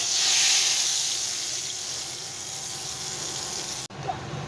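Tadka tempering for kadhi pakora spits and sizzles loudly in hot oil, a broad steady hiss that peaks early and eases, ending with a brief clatter.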